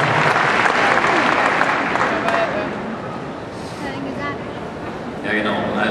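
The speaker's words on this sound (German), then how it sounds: "Nochmal Applaus." An audience applauds at the Equitana 2013 horse fair during a riding clinic demonstration, dense clapping that fades gradually, with voices talking as it dies down.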